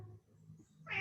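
A house cat meows loudly and close by in a single drawn-out call near the end, after a quiet stretch of low indoor background hum.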